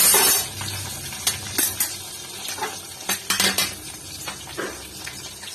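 Panch phoron dropped into hot oil in a wok for a Bengali rohu fish curry, with soft sizzling under clinks and scrapes of a metal spoon against the pan, in uneven bursts.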